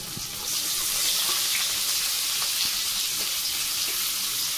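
Four large onions cut into big chunks frying in a pan, a steady close sizzle with a bright hiss that starts as the pieces go in and keeps going evenly with no talk.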